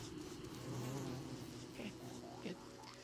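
Bees buzzing in the video game Don't Starve Together, a steady faint droning hum, with small sound-effect chirps layered in toward the end.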